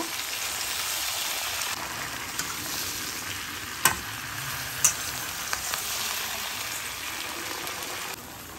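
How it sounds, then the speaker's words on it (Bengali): Bottle gourd greens stir-fried with already-fried vegetables, a steady loud sizzle of hot oil running throughout, broken by a couple of sharp clacks of the spatula against the pan near the middle. "এবার শাকটা দিয়ে নাড়িয়ে চাটিয়ে ঢেকে দেব।"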